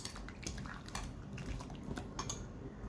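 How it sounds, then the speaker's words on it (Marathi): A spoon scrapes and clinks against a bowl while a wet masala mixture for chicken is stirred, giving a steady run of close, light metallic taps and soft squelches with no talking. "हे सगळं आपण मिक्स करून घेऊया।"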